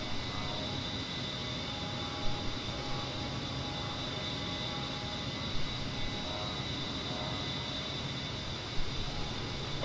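An A-10C jet engine in the DCS World flight simulator, heard as a steady, loud whooshing roar that holds evenly for the whole stretch with no talking over it.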